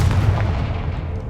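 A Confringo blast spell in Hogwarts Legacy erupts as a loud, heavy booming impact with a rumbling low-end tail that fades out over about a second.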